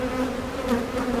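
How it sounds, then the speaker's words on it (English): Dense, steady buzzing of many honey bees swarming around an opened beehive box, a continuous close drone with no pauses. "there's a ton of bees inside the inner covers, or not inner cover, but the side of the box as well"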